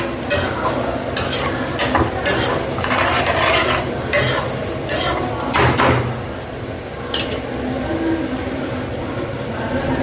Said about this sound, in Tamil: இப்போ பார்த்தீங்கன்னா வெந்தயக்கீரை வதக்கி எண்ணெயை வெளியே விட ஆரம்பிச்சிருக்கேன்